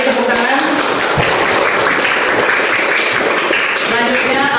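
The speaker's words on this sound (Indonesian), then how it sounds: "Baik, terima kasih tepuk tangan." Classroom applause from students after a Quran recitation lesson, a dense wash of clapping mixed with murmuring voices, loud and steady throughout.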